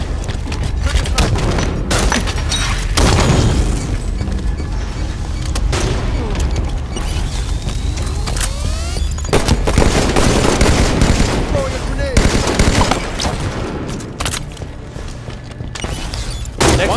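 Gunfire and explosions fill a Halo 5 ranked Slayer match. Near, dense bursts of automatic fire and heavy booms repeat throughout, mixed with mechanical game effects and occasional announcer voice lines.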